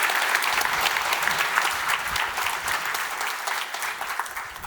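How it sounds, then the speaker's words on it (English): Audience applause at a talk's question session: a sustained round of clapping from a crowd, dense and steady for several seconds and tapering slightly at the end, with no talking. "a big round of applause for Jeremy."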